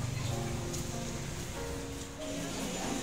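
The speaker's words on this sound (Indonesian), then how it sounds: "Hujan, hujan ringan." Light rain falls steadily with a soft, even patter throughout, faint and close, with no talk over it.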